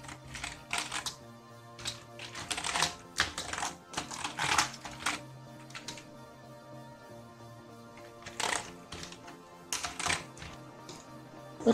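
Cleaning gel pressed and lifted across a computer keyboard, making bursts of soft key clicks and tapping that come and go over several seconds, close up with no voices.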